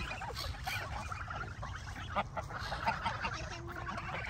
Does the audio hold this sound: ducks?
yes